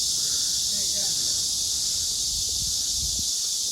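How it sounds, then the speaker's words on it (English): Cicadas in trees on a hot, humid day in the gardens of the Lin Family Mansion in New Taipei City, a steady high buzzing drone that stays loud and constant throughout, alone with no talk. "You can hear the cicadas in the trees."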